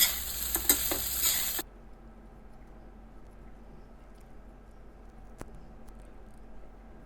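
Cooked rice for coconut rice stirred and mixed in a hot pan, a burst of close scraping and light sizzling for the first second and a half, then near silence with a faint tap later.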